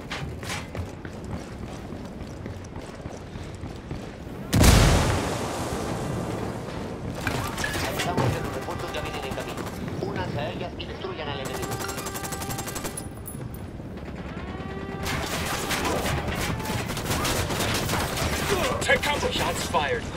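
Gunfire in the video game Ghost Recon Wildlands during a firefight with cartel forces: bursts of automatic fire and scattered shots, with a loud blast near the start and steady combat noise after it, mixed with voices talking.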